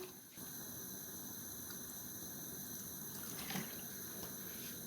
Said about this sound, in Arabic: وهنزود شوية من المية